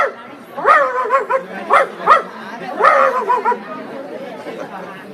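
A person imitates a small dog, yapping and barking in short bursts with whiny, yelping tones, close and fairly loud, during an outdoor theatre performance.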